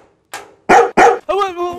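A dog barks in a quick burst of three or four sharp, close, loud barks, the last one drawn out into a tonal yelp.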